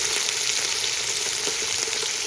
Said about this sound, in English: That's what you call an honorable sizzle.